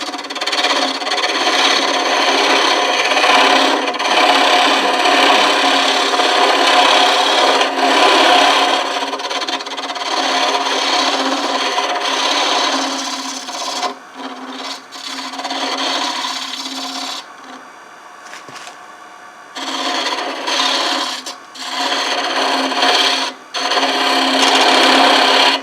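Woodturning gouge cutting a hollow form on a lathe spinning at about 1,000 RPM, a loud, continuous scraping rasp that drops out briefly a few times as the tool lifts off the wood.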